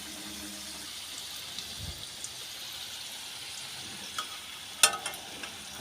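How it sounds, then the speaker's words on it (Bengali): Paneer puri frying in hot oil in a wok, a quiet continuous sizzle and bubbling with a few soft clicks and a brief louder clatter near the end. "তেলটা গরম হয়ে গেলে একে একে আমি পনির পুড়িয়াগুলো ছেড়ে দেবো।"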